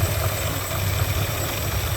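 A 1965 Plymouth Fury II engine idles cold with a low, steady rumble and slight vibration, idle speed low, continuous throughout, with no talking.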